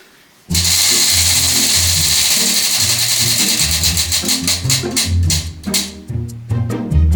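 A prize wheel spun to pick books whirs up loudly at once, then its clicking slows into a spaced ratchet of ticks as it winds down, close and alone.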